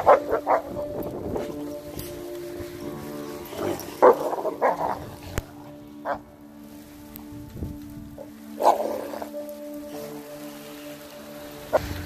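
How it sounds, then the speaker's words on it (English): Several dogs play in a snowy front yard, letting out bursts of barks and growling yips in irregular clusters, fairly close and loud, with quieter gaps between the outbursts. "People always seem to enjoy these videos of the dogs playing out in my front yard in the snow."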